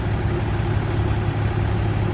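A school bus being converted into a skoolie, its engine running in a steady low rumbling drone as it drives, heard from inside.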